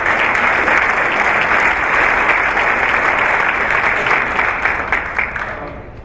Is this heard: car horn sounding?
no